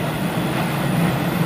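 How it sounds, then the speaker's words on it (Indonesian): Gajah Wong passenger train hauled by a vintage fourth-generation locomotive from the Cirebon depot, passing on a hillside line near Tumiyang with a steady, loud rumble of wheels and engine throughout. "kereta api Gajah Wong menggunakan lokomotif vintage"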